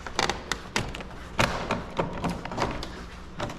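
An interior door panel is pried off a 1999–2004 Ford Mustang, producing a rapid series of sharp plastic snaps, clicks and thumps at close range with no talking.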